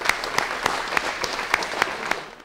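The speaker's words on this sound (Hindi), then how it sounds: "प्रेम प्रकाश शुक्ल जी के लिए जोरदार तालियां बजाइए।" An audience claps loudly for poet Prem Prakash Shukla at the launch of a poetry programme. The dense, steady clapping runs throughout and fades at the end, with no talk over it.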